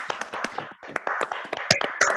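Scattered hand claps from participants of an online church meeting, uneven and overlapping as several microphones pick up bursts of clapping at different distances, with brief gaps between flurries.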